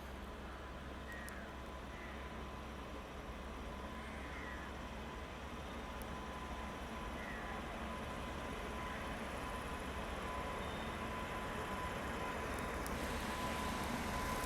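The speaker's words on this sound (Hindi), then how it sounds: "जैसे ही अपनी ट्रेन निकली" A train pulls away and rolls steadily on the rails at a busy Indian junction, a continuous low rumble and clatter that slowly grows louder over the whole stretch, with faint high squeals and clanks on top.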